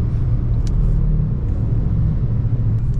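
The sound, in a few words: car in heavy traffic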